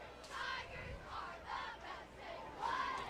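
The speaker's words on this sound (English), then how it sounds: "A lot of the Fairview fans are booing." Fans at a Friday night high school football game between Girard and Fairview let out long, rising crowd roars and jeers in several swelling waves, heard from a distance.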